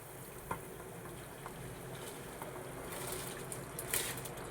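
Rice stirred into a pot of boiling water for coriander coconut rice, a steady bubbling hiss with a few soft scrapes and clinks of the spoon, swelling slightly toward the end.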